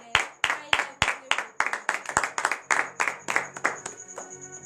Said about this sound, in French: je suis en train de donner de vive acclamation à l'Éternel